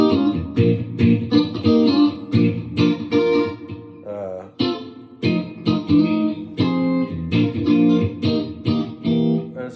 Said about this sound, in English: Full chords that sound like this.